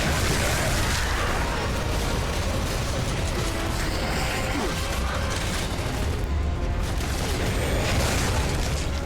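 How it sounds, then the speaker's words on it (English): A rocket explosion in the Gears of War 3 video game booms with dense, sustained rumbling and crackling debris, loud and continuous throughout with layered battle noise. "Okay, so the explosion is big."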